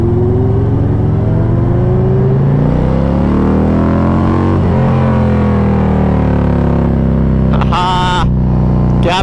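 A Harley-Davidson Street Glide engine runs loud and close, its low rumble rising and falling in pitch as it revs and accelerates steadily, with a brief sharp burst of noise near the end.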